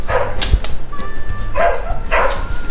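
Dog barking in short bursts with a whimper or yip between them, close and fairly loud, in a workshop where a wood stove hearth is being built.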